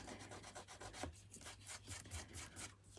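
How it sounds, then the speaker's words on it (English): A sand eraser rubs back and forth on card to remove a mark, giving a soft, quick, rhythmic scratchy scrubbing close up, with no talking. "I will hopefully be able to use my sand eraser and get rid of that"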